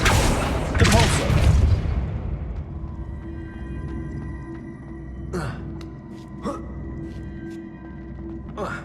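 Depulso spell cast in Hogwarts Legacy: a loud, forceful blast bursts out at the start and fades over about two seconds into a humming background, with a few short, bright whooshing bursts later.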